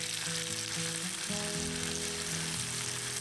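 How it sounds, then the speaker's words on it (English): Diced tomatoes sizzle in ghee with garlic in a pan, a dense steady crackling fry heard close up under a faint background tone, with no talking. "So now we can add our diced tomatoes and we cook them for another 2 minutes."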